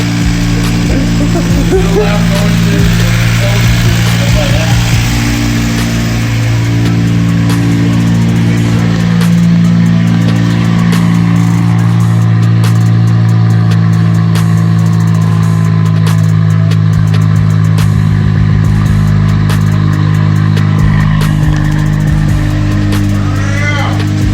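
A 2017 Honda Civic Si engine running steadily after a clutch install, a loud sustained engine hum with some rev variation throughout, with people talking over it.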